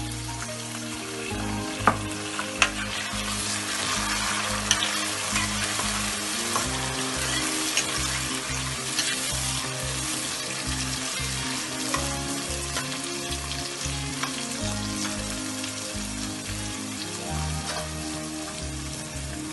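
Onions frying steadily in a pan for a Punjabi curry, a continuous dense sizzle with faint crackles, close and alone throughout.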